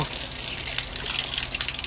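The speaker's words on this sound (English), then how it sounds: "See, that's just the water in that pipe right there, I believe." Water rushes steadily through the pipe of an outdoor hose bib, a continuous hissing gush held at an even level throughout.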